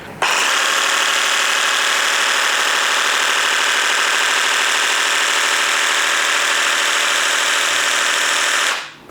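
FERM Action reciprocating saw running loudly and steadily at high speed, a dense buzzing mechanical drone from start-up to a quick wind-down near the end, no talk over it.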